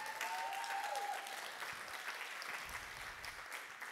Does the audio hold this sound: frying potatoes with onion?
no